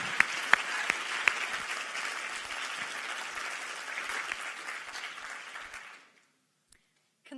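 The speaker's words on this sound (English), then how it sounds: "Lots of applause with your paws for Kate Storrs" A theatre audience at the FameLab UK 2016 science-talk final applauds a contestant with a dense, steady wash of clapping from many hands, a few sharper nearby claps on top, fading out abruptly near the end.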